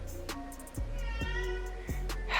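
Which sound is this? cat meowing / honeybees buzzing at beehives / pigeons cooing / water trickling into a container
cat meowing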